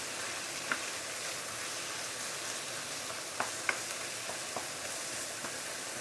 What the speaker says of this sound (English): the fish has been pan frying for the past about 5 minutes